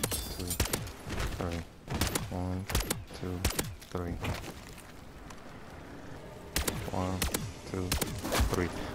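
Rapid bursts of automatic weapon fire in the MW3 Zombies video game, sharp repeated shots in quick strings with short gaps, loud and close throughout.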